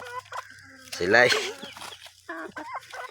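Chickens cluck near the microphone while being fed on a rural farm, with one loud rooster-like call in the middle and softer clucks around it; a person speaks briefly.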